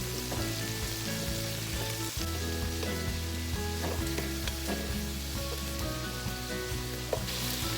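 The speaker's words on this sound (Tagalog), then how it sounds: "Halu-haluin lang po natin siya. Para maluto yung ating chicken liver." Chicken liver sizzles in a hot pan while being stirred for a Kapampangan creamy sipo egg dish. A dense, steady frying hiss runs throughout, with occasional scraping knocks from the stirring.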